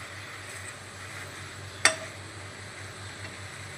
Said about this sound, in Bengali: নাড়াচাড়া করে তেলে ভালো করে ভেজে নেব।